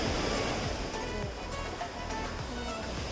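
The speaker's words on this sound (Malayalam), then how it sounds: "നല്ല വെള്ളത്തിൻ്റെ ശബ്ദം കേൾക്കാനുണ്ട് ഉണ്ടല്ലോ" Rushing water at Keralamkundu waterfall in Kerala makes a dense, steady roar that fills the whole stretch with no voices.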